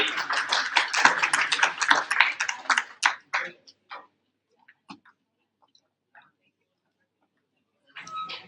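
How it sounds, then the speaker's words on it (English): Audience applause at the PMO India Awards Conference 2023, a dense burst of many hands clapping that thins after about three seconds into scattered single claps, then a brief flurry returns near the end. "Can we have a big round of applause"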